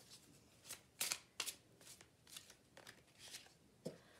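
Tarot cards are shuffled in a few quiet, crisp riffles and flutters, with soft papery snaps spaced irregularly over a few seconds, close but faint.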